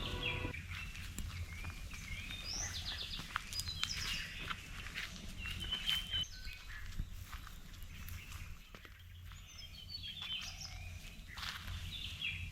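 Birds chirp and tweet intermittently in a quiet Mudumalai–Bandipur forest setting, over a soft, steady rustle of leaves and faint patter.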